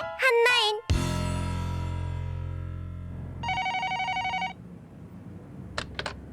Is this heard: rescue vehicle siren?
no